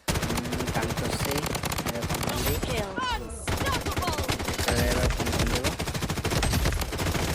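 Gunfire in the Blood Strike video game comes as dense, rapid automatic bursts that fill nearly the whole stretch. There is a brief lull partway through, then the loud, continuous shooting resumes.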